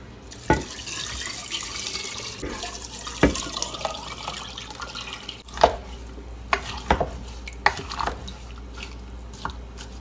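Tap water runs into a container for homemade apple cider vinegar, a steady wash of flowing liquid punctuated by irregular splashes and clinks, heard alone without talk.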